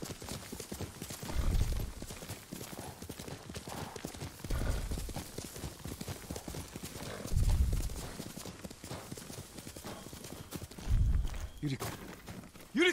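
Horse hooves clip-clop steadily in Ghost of Tsushima, a close walking rhythm with four heavier low thumps roughly every three seconds. The beat carries on throughout, under a constant bed of game sound.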